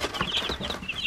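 A flock of laying hens and larger meat birds clucking and murmuring together in a dense, continuous chatter, close by with no voices.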